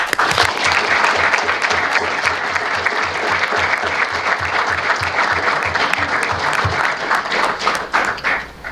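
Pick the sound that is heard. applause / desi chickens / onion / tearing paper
applause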